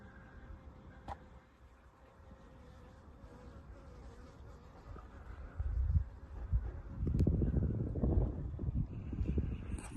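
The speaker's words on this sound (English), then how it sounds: "Happy bee. Yeah, baby. Pollinate my tree." A bee buzzes near a fruit tree in a backyard vegetable garden, a faint, thin drone under soft wind noise that swells into louder rustling and handling bumps toward the end.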